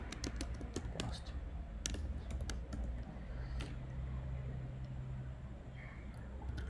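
Keys clack on a computer keyboard in a quick burst of typing, then a few scattered taps, all close and fairly crisp over a low room hum.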